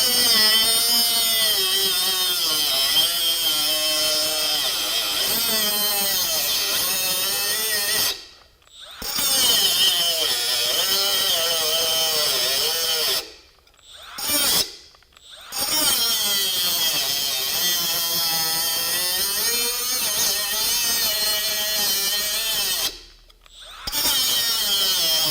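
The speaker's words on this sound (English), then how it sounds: "So here's a piece of hardened steel rod." A Milwaukee M12 FUEL quarter-inch straight die grinder cuts through half-inch hardened steel rod, a loud sustained high-pitched whine and grinding screech broken by several brief pauses, with no talking.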